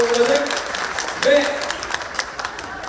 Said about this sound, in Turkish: kendisine uğurladık